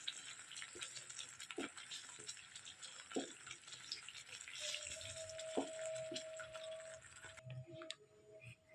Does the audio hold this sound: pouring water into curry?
yes